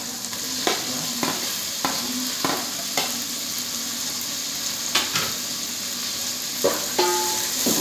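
Ginger and tomato are sautéed in a pan, giving a steady close sizzle broken by repeated scraping stirs and soft clinks roughly every half second, with no speech.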